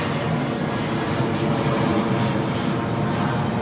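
Emirates airliner bound for Dubai taking off from runway 09R at London Heathrow, a loud, broad, steady jet roar that fills the whole clip with no pauses.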